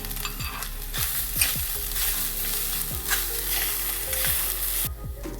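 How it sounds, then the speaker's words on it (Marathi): Two cups of grated fresh coconut frying in ghee in a kadhai for Navratri fasting laddoos, a steady close sizzle broken by repeated scraping strokes of a spoon stirring, with no voices. "थोडं तूप घालूया आणि नारळाचा चव 2 वाटी चव घेतलेला आहे. तो टाकून घेऊया."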